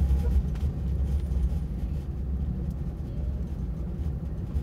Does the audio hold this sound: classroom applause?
no